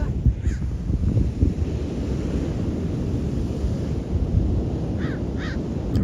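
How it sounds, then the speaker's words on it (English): Crows caw on an outdoor hike in Topanga, one call near the start and two or three more near the end. Steady wind rushes loudly across the microphone throughout. "These birds are joining me."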